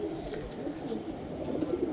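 Caged pigeons coo in low, soft murmurs, a steady close burble filling the space with a few louder throaty notes toward the end.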